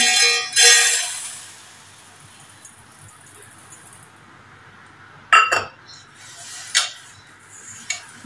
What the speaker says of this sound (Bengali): তো চলো চালটা আমি ধুয়ে নিই